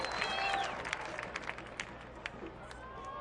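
Soccer stadium crowd at a USL match between Whitecaps FC2 and Phoenix, a steady broad murmur with scattered claps and whistles rising and falling underneath, fairly distant and moderate in level.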